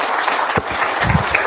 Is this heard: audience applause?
yes